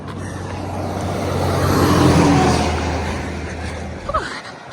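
A truck's engine runs with a steady low rumble that swells and fades as it passes close on a road near the Pacific Crest Trail around Castella, loud and continuous with a brief knock near the end.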